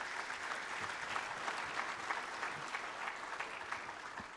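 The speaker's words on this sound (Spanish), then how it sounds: "agradecemos a Pablo, por favor, con un fuerte aplauso." An audience applauds after a presenter at a Spanish-language symposium, with dense, even clapping holding steady throughout at a fairly distant, moderate level.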